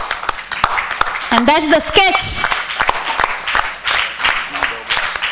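An audience claps for a Lifetime Achievement Award winner in film and society at the 2017 India CSR Leadership Summit and Awards, a scattered patter of claps running beneath someone talking.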